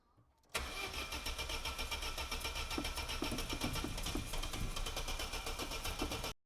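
An Opel Corsa B that has been struggling to start fires up after a brief crank, then settles into a loud, steady idle close by with no voices.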